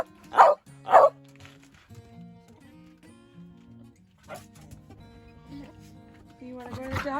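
A dog barks twice sharply and close at the start, then a short yip follows, with faint background sounds in a van-life setting in New Mexico.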